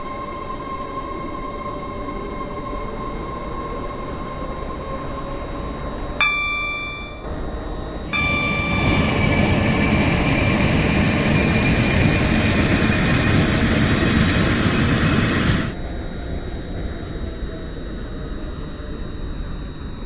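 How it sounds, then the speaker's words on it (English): Trains in the Roblox railway games SCR and British Railway: a steady engine drone with tonal whine, a brief pause, then a louder roaring run with rushing noise before settling back to the hum. "let's take a look, well, have a listen, to the sounds of both trains"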